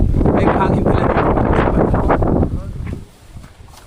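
Heavy wind gusts on Busay Hill, Biri Island, rumble loudly against the microphone, then drop away abruptly into a quieter breeze near the end.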